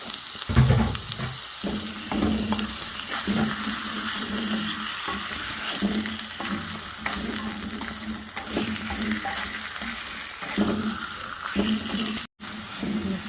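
Finely chopped goat liver sizzles steadily in a hot pan, with intermittent stirring scrapes and clinks over a continuous frying hiss, close and moderately loud, no talking.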